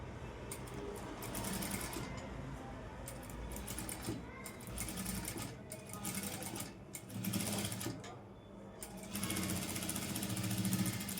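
A sewing machine runs a seam on a cross-cut blouse in bursts of rapid needle chatter with brief pauses between runs, close and moderately loud; faint background noise sits beneath.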